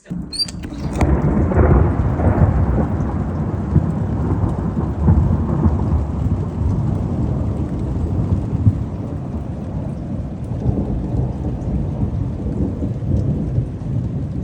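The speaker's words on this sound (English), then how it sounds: "It's finally the rain and thunder time of year" Rain falls steadily on surfaces while thunder rolls in a long, loud, continuous rumble that slowly fades. No voices are heard.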